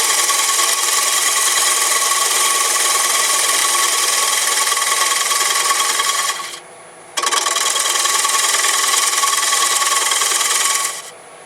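A wood lathe turns a piece held between centers while a gouge takes light slicing cuts for hollowing. A loud, steady rasping hiss runs for about six seconds, breaks briefly, then resumes for several more seconds.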